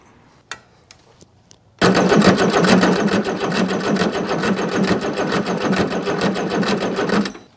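A Chrysler diesel engine, a Mitsubishi 6DS70, cranks during a test fire after a few sharp clicks, then a loud, rapid, even chugging of the starter and engine continues for about five seconds before cutting off.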